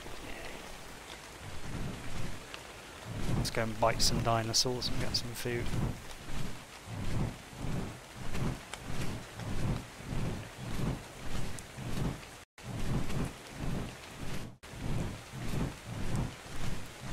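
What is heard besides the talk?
rain and thunder in video game Ark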